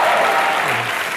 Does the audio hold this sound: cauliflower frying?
no